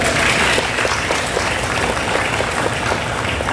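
A crowd at a city council meeting held outdoors at a sports complex gives Mandy a steady round of applause, dense and loud, close by and alone.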